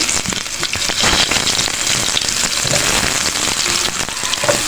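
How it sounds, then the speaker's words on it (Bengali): Eggplant pieces frying in hot oil for a Bengali begun bharta, a steady loud crackling sizzle with dense spattering pops that continues without pause. "এখন আমি এই তেলে বেগুনগুলোকে"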